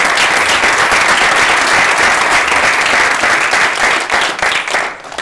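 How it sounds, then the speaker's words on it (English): An audience at an award ceremony applauds police officers, a dense, steady wash of clapping from many hands that stays loud throughout and thins slightly near the end. "let's just applaud all of you"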